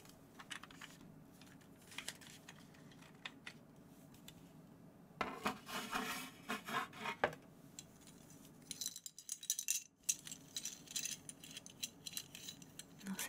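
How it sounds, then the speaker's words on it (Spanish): Puzzle pieces being shuffled and slid around on a table, a quiet close clicking and rubbing that comes in bursts, busier in the middle and toward the end, with no talking. "voy a intentar hacer aquí movimiento de las fichas un ratito"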